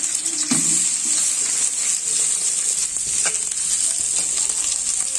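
Chopped onions hit hot oil with a spoon of ghee and sizzle steadily, a loud continuous frying hiss with a few soft stirring clatters, no voices.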